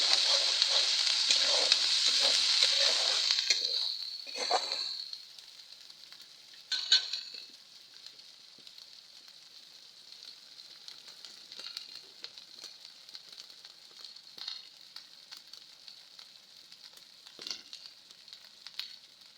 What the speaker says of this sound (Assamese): এতিয়া অকণমান ভাজিম